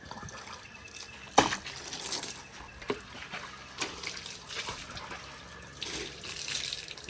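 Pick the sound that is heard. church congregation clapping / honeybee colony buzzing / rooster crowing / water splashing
water splashing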